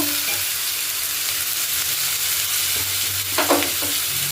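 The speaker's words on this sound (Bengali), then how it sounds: "নাড়াচ্ছে যাতে আলুটা ভাজা ভাজা হয়ে যায় ভালো করে" Potato pieces sizzle steadily in hot oil while a spatula stirs them in the pan. Scrapes and soft clatters rise near the end over a close, continuous hiss.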